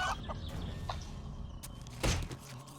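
Chicken clucking in a survival video game: several short clucks and squawks, fairly close, with one sharper burst near the end. Game ambience runs in the background.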